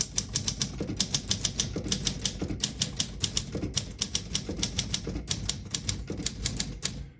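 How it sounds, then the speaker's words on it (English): A 1958 Olympia SM3 portable typewriter, made in Germany, is typed on steadily, with crisp close key strikes clattering in quick irregular bursts and short pauses between groups. "Beautiful typing machine,"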